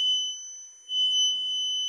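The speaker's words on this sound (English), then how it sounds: "the buzzer is on." An electronic buzzer switched on by a Raspberry Pi over Bluetooth gives a steady, piercing high-pitched tone that holds without a break for about two seconds, close and alone with no talk.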